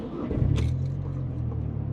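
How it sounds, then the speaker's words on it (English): A 2009 MazdaSpeed3 engine rumbles up as the car pulls away, a close, steady low drone rising briefly with a quick burst of intake or exhaust noise. "let's go for a somewhat spirited drive in the MazdaSpeed3"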